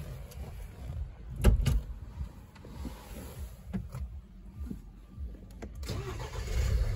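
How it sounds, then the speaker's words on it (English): Mini Paceman Cooper D diesel turned over with the key: a few sharp clicks and thumps, then a low engine rumble building and settling into idle, heard close up inside the car, no speech. "So when you put the key in to start it up,"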